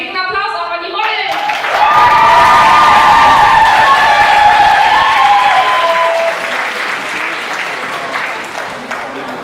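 A live audience at a fashion or cultural presentation applauds and cheers the models, a loud, sustained wave of clapping that swells early, holds steady, then thins toward the end, with a voice briefly audible at the start.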